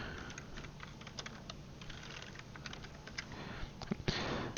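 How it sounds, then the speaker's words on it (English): Rapid typing on a computer keyboard while entering values in drainage placement software, a steady run of close, crisp key clicks with a louder burst of keystrokes near the end. "make sure you type it in right"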